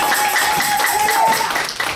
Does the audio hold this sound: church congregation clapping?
yes